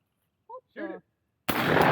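Outdoor shot fired on a country birthday outing, a loud, abrupt blast that rolls into a sustained booming tail lasting to the end, preceded by two brief vocal sounds and a moment of silence.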